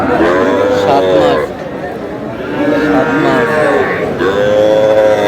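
A seven-month-old Sahiwal bull calf moos loudly and close, several long drawn-out calls one after another with short pauses between.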